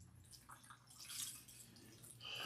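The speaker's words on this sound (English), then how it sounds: "The water that's coming out of her hair is nice and clean." Rinse water runs and splashes steadily out of a woman's hair during washing, a faint, close trickle with brief drips and a stronger gush toward the end.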